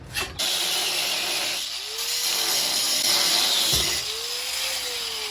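A ratcheting mechanical whir runs throughout during car body work, with two sharp metallic pings ringing out briefly, each with a short rising tone.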